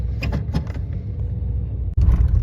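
A 1988-1994 Chevrolet Silverado truck drives along a road, a steady low engine and road rumble heard from inside the cab with faint creaks, and a sudden loud surge near the end.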